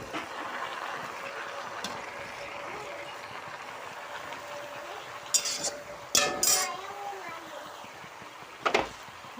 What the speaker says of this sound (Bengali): শাকটাকে ভালো করে মিক্স করব।